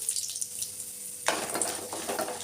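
Peanuts and fenugreek seeds hit hot oil in a pan for a tomato and dried red chilli chutney, giving a soft hum that bursts into a loud, steady crackling sizzle partway through.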